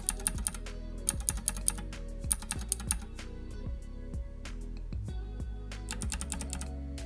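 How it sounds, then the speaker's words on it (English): Fast typing on a mechanical keyboard with clicky switches such as Cherry Blue, Kailh Box Jade or Navy, crisp close-up clacks in quick irregular bursts with brief pauses, no voices. "They have a tactile bump and an audible click when activated, similar to how a light switch feels and sounds."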